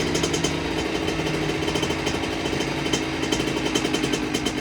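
A small mini bike engine runs rough and loud close by, with an uneven, lumpy idle that sounds lean and chatters steadily throughout, no speech.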